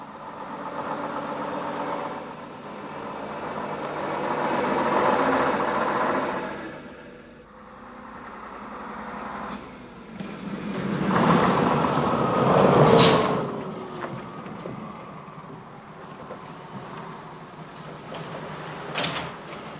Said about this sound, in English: There now follows a captivating non-stop sequence of buses and trolleybuses at Aquarium